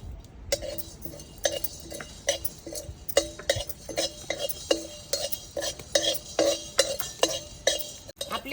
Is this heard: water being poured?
no